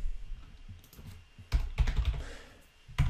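Short bursts of keystrokes on a computer keyboard while entering code, with irregular clusters of clicks and pauses between them, close and fairly quiet, with no one speaking.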